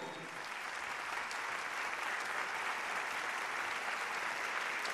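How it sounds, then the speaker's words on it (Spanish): Sustained audience applause for a guitarist at a big band concert, a dense even wash of clapping from a large crowd that swells in and holds steady throughout. "Un aplauso para el maestro."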